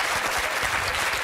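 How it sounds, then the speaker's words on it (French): A French television studio audience breaks into brief, dense applause, a close wash of clapping at constant level with no voices over it. "on va vous applaudir pour"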